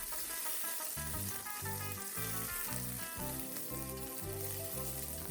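Green chilli pieces, broken by hand, fry in oil in a pan for radish sambar, giving a steady, continuous sizzle close by, with music playing underneath throughout.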